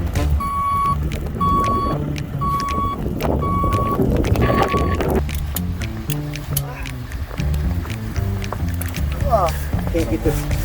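A snow plow truck backs up, its reversing alarm giving about five evenly spaced beeps over the rumbling diesel engine, followed by scraping and clanking, while someone talks throughout.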